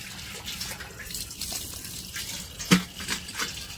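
Water runs and splashes from a pipe on a farm with a soft continuous gush, a few louder splashes and drips over outdoor background noise.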